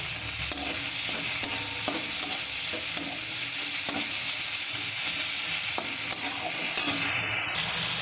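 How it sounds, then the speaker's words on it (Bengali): Chillies and spices fry in a hot pan with salt and cumin, giving a continuous loud sizzle broken by scraping stirs and clinks from a utensil, with no voices. "দেখুন আমি মশলাটাকে কেমন করে কষিয়ে নিয়েছি, খুব সুন্দর করে কষিয়ে নিয়েছি।"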